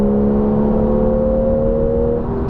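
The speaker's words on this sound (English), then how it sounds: "I don't know if the mic is picking up the naturally aspirated sound" A 2015 Porsche 911 GTS naturally aspirated engine holds a steady, loud drone with strong harmonics, sustained in one gear by the PDK gearbox in sport mode, then eases slightly at the end.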